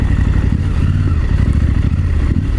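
A Husqvarna Norden 901 motorcycle engine runs loud and close, a continuous low-pitched rumble that holds steady throughout.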